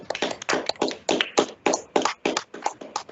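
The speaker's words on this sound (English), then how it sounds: "I request everyone to unmute yourself and applaud Toastmaster Vishal Vinayak for completing his icebreaker speech" Online meeting participants applaud a Toastmasters icebreaker speech, a close, loud burst of hand claps in an uneven rhythm with no talking over it.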